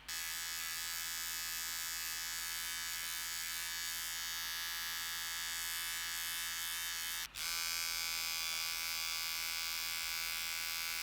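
A Veet dermaplaning device, an electric facial hair trimmer, buzzes steadily and close while trimming the face, a continuous high whine with a brief dip near the end before it resumes.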